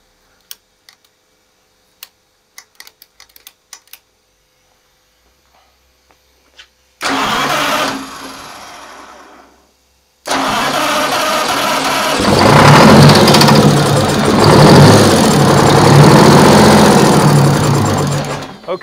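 A Detroit Diesel 6V92TA two-stroke engine is started up in a workshop: scattered ticks and clicks of preparation, a first short cranking burst, a pause, then the engine catches and roars loudly and steadily close by.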